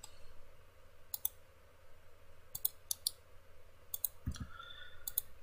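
Mouse clicks while working in AutoCAD, sharp isolated clicks in small clusters, close and fairly quiet over a faint steady hum.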